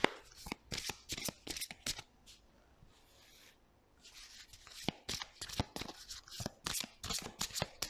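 Oracle wisdom cards being shuffled by hand in repeated quick riffling bursts, crisp and close, with a brief quieter pause in the middle before the rustling resumes.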